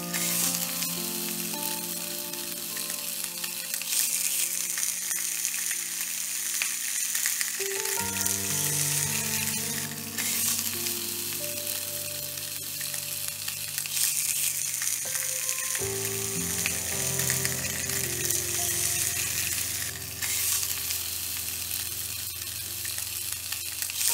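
Butterfly-cut breakfast sausages fry in a pan for an American-style breakfast, with a continuous close sizzle and crackle that holds steady throughout, with no talking.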